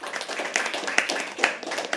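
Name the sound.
audience clapping for a performer at a poetry open mic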